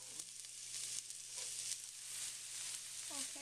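Breaded eggplant slices sizzling in about a tablespoon of hot olive oil in a heated pan, a soft, close, steady crackle and hiss with a faint voice at the end.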